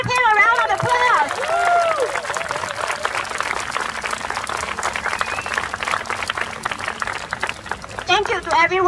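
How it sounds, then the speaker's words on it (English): Audience applause at a speaking event on fair wages and employment rights, a dense, steady clapping crowd filling the whole stretch, with voices and cheers mixed into the noise. "Can we give him a round of applause?"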